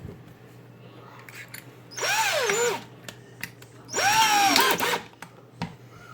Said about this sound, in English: Gonna put it on low speed.